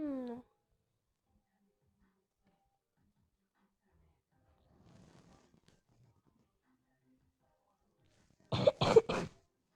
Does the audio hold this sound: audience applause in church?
no